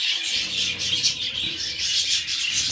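Budgerigar parakeets and their chicks chirp and twitter continuously in a dense, high-pitched chatter, close and fairly loud, with no talking over it.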